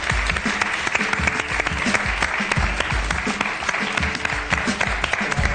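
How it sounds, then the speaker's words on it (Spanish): A studio audience on a Spanish television talk show breaks into loud, sustained clapping, a dense patter of many hands that stays steady from start to finish. "Un aplauso, por favor."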